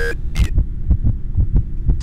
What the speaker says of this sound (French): Ah, les battements de cœur.